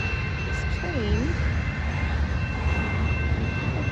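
A train passes a crossing near a beach, a steady, loud rumble of rolling cars that holds throughout, with a faint high tone riding over the noise.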